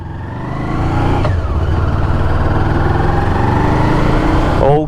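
A Honda motorcycle engine runs steadily and loudly up close, a continuous rumbling drone that rises slightly near the end.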